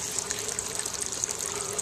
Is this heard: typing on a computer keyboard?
no